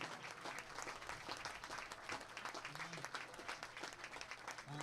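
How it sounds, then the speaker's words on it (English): A crowd at a North Dakota State Class B Legion baseball championship applauds steadily, a dense wash of clapping hands that carries on without a break. "they deserve a round of applause"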